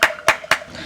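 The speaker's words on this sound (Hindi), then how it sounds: "सुन, ताली की आवाज सुनाई दे रही है?" Hand clapping: three sharp, close claps in a steady rhythm, each a crisp, bright smack with a short decay, heard on their own.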